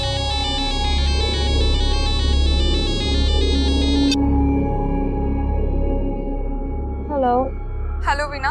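A phone rings loudly indoors with a dense, repeating electronic ringtone for about four seconds before it stops, followed by a soft room hum and a brief chirp near the end.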